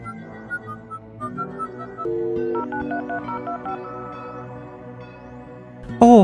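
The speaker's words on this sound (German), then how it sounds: "dann rufe ich eben an" Telephone number dialed in the video game Fran Bow: a run of distinct electronic keypad tones in steady sequence, followed by a louder ringing burst at the end, with no talk over it.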